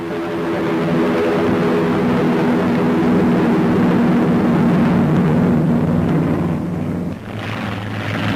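Propeller-driven 1942 US bombers take off one after another, their engines a loud, steady, close droning roar with a throbbing low hum that holds throughout, then eases briefly near the end.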